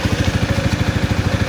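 A Yamaha Sniper 155 motorcycle's radiator fan runs alongside the engine, giving a loud, steady rhythmic pulsing drone up close with regular, evenly spaced beats throughout.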